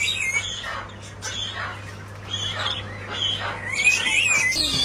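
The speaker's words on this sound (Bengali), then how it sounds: "এখানে বাজিগার দেখতে পাচ্ছি, জাপানিজ।" Small caged birds, budgerigars, at a Chatuchak bird market in Bangkok chirp and twitter in quick repeated calls, with a steady low hum beneath and a busy market background.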